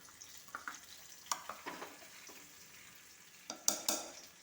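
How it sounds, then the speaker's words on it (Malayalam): Hot tempering with curry leaves is poured into a cooked papaya tamarind curry, giving brief sizzles and several sharp pops and spatters, quiet and close, with no talk. "വറുത്തത് ഒഴിച്ചു കൊടുക്കാം"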